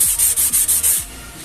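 Sandpaper wet-sands the body panel of a Supra X125 motorcycle in about six quick, loud back-and-forth strokes, close up, and then the rubbing stops.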